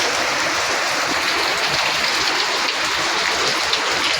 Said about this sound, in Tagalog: Lakas ng ulan mga kalabs.